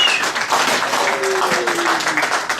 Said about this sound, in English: Everybody give Cliff a nice round of applause.